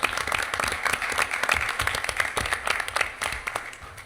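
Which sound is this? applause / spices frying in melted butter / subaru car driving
applause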